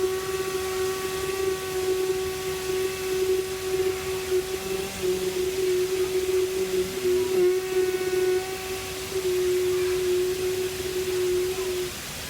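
A group hums together to imitate a bee's buzz during a breathing exercise, a sustained steady tonal drone held for about twelve seconds, with a few brief low voices mixed in beneath it.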